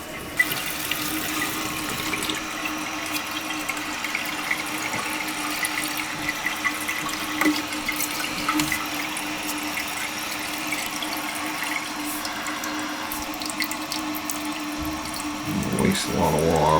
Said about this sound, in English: Make sure it flushes and it's not leaking.